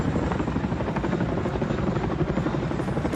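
Helicopters in the video game Delta Force Hawk Ops: a loud, steady rotor thump and engine drone that fills the whole stretch without a break.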